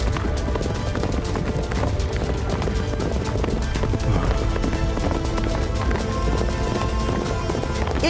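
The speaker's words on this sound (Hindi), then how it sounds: "अरे ये घोड़े कहां से आ गए?" Several horses gallop in a dense, continuous pounding of hooves, loud and close throughout, mixed with a busy cartoon soundtrack and occasional whinnies.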